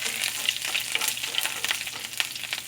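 Mustard seeds, curry leaves, chopped ginger and garlic frying in hot oil, a dense bright crackling sizzle with scattered pops and stirring scrapes, close and fairly loud, no talking.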